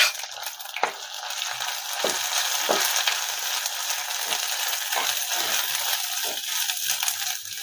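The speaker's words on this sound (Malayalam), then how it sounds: "അപ്പൊ നമ്മുടെ കടുക് മൂത്തിനടുത്ത് നമ്മൾ തേങ്ങ അരച്ച് വെച്ചും കൂടെ അങ്ങോട്ട് ഇടുവാണ്." Ground coconut paste sizzles in a pan of hot oil with crackled mustard seeds for an Onam pachadi curry, a steady close frying hiss broken by occasional scrapes and stirring clicks.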